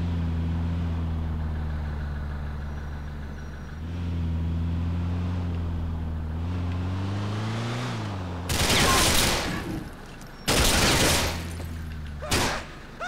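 Gunfire in the video game GTA IV comes as three loud, sharp bursts of rapid shots that cut in after a stretch of low, wavering engine hum.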